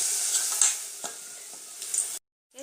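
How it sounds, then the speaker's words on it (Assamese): Curry leaf fritters (bora), two or three at a time, fry in hot oil with a steady close sizzle, soft stirring scrapes and clinks over it, then a sudden brief silence before the sizzle returns. "2-3টা একেলগে ভাজি লৈছোঁ আৰু অকণমান কুৰকুৰীয়া আৰু অকণমান কালাৰ হোৱালৈকে ভাজি ল'ম"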